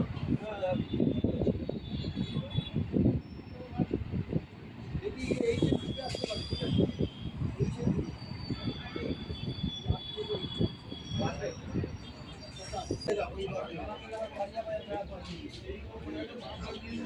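Commuter train arriving on the Dum Dum to Dankuni line near Rajchandrapur in Howrah district, West Bengal, with rumbling wheels, clattering rail joints and brief high squeals, voices talking over the noise.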